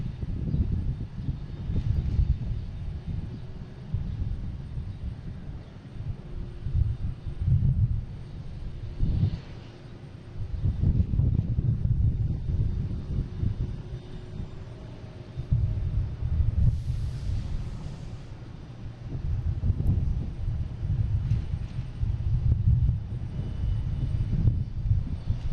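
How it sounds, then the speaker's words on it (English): A Delta Airbus A220 jet takes off from Boston Logan airport, a steady low engine roar with rumbling swells that holds loud throughout, with no voices present. "We have Delta ticket off to Nashville in A220, flight"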